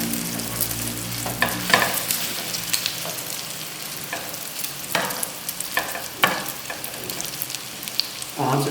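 Potato masala sandwiches fry in a pan over medium heat, a steady close sizzle broken by scraping stirs and turning clatters, with no talk.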